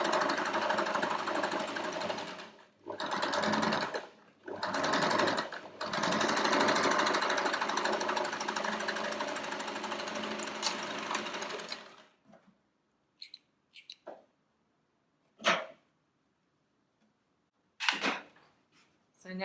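Sewing machine stitching around a fabric seam at about the foot's width, running steadily and loudly up close in long bursts with short breaks, then falling quiet apart from a few brief handling clicks.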